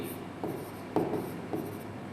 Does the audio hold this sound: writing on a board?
yes